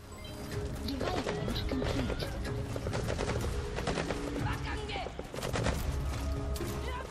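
Rapid bursts of gunfire from the video game Metal Gear Solid 5: The Phantom Pain fill the clip, dense volleys and sharp shots crackling loudly and almost continuously, with scattered impacts and clatter mixed in.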